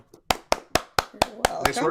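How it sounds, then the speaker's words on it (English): Seven slow, evenly spaced single claps from one pair of hands ring out close and crisp, a deliberately muted golf clap, with a voice joining near the end. "Golf clap."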